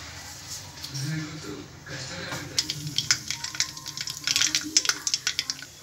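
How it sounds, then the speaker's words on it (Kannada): Mustard seeds sizzle and crackle in hot oil while village-style chicken fry is being made, sharp pops growing denser and louder toward the end over a steady background hiss. "ಈಗ ಎಣ್ಣೆ ಕಾದಿದೆ, ಇದಕ್ಕೆ ಸ್ವಲ್ಪ ಸ್ವಲ್ಪ ಸಾಸಿವೆ ಹಾಕೊಂತಾ ಇದ್ದೀವಿ"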